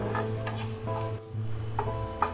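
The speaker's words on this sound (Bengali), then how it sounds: "এখন কিন্তু গ্যাসের ফ্লেমটা একদম লোতে রেখেই এটা ভাজা ভাজা করব।" Spices for a sweet and sour mango pickle are dry-roasted in a pan over a low gas flame, giving steady, soft scraping from stirring with a faint sizzle underneath.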